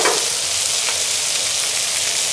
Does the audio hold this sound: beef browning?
yes